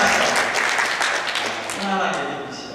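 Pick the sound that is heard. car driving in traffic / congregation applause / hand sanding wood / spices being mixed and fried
congregation applause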